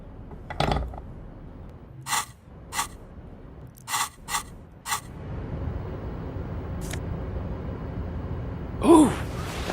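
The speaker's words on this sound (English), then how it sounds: "What if I tried the bolt cutters?" Bolt cutters working on a lock in the Disco Elysium video game: several short, sharp metallic clicks and snaps in quick succession, then a quiet low ambient hum and one brief faint sound near the end.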